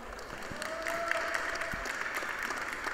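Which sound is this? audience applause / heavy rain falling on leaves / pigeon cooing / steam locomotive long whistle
audience applause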